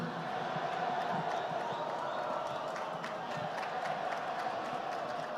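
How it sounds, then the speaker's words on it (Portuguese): A crowd at an outdoor statue inauguration ceremony in Porto Alegre gives steady, mid-distance applause mixed with scattered booing and murmuring, sustained throughout without pause. "Quero agradecer as palmas e as vaias"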